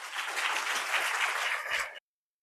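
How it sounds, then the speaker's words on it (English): An audience applauds to welcome a professor at a debate event, a dense, even burst of clapping that stops abruptly. "speaking of applause, join me in welcoming Professor Weisberg."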